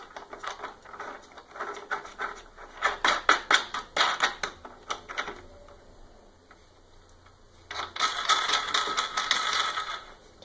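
Nut being fastened onto a screw while assembling the Y-axis bearing of a 3D printer: a run of quick metallic ticks and ratcheting clicks, a pause, then another burst of rapid clicking, close and clear.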